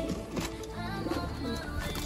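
Asmani pigeons coo softly in a loft, low rounded murmuring calls repeating unevenly against a quiet background, with no talking.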